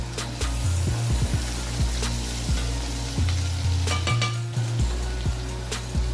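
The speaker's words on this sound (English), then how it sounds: "Now we're going to add about 4 crushed cloves of garlic." Crushed garlic cloves hitting a pan of melted butter, a steady close sizzle with repeated clinks and scrapes of a utensil stirring against the pan throughout.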